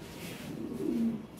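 Lahori Sirazi pigeons coo on a pigeon farm, a soft, low, rolling call that swells near the end and is heard close by with no talking.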